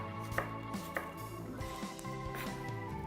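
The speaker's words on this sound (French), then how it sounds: "nous avons fini par ciseler les oignons" Knife mincing onions on a board while preparing vegetables for a spring risotto: quick, light chopping taps repeat in short bursts close by, over a steady humming background.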